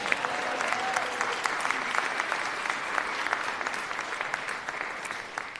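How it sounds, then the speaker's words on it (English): Steady applause from a city council meeting crowd, dense clapping that holds at an even level throughout, close and full. "Give her a round of applause."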